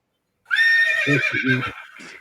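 A horse neighs loudly on its own as a sound effect: one long, shrill whinny that wavers, then drops into lower snorting pulses before fading.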